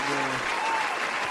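Applause breaks out for a special guest on a casual talk show, a steady dense clatter of clapping filling the whole short stretch, with faint voices mixed in at the start.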